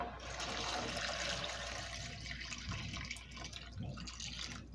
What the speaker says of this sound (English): we are going to put our broth in here.